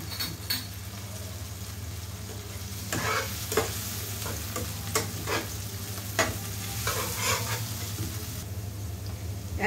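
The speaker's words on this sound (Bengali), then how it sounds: "তারপরে হচ্ছে আপনার 2 চামচ মতো হচ্ছে আপনার এখানে শুকনো মরিচ বাটা আছে দিয়ে দিলাম।" Spices and dried red chilli paste sizzle in a hot pan with a steady frying hiss, punctuated by scraping stir strokes and light clinks of a utensil against the pan over a low hum.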